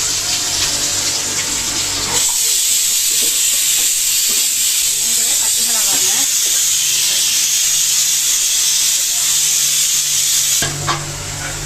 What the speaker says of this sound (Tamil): சின்ன வெங்காயம் ஒரு ஆறு வெங்காயம் அரைச்சி வச்சுருக்கோங்க அதையும் எண்ணெயிலே போட்டுக்கலாம்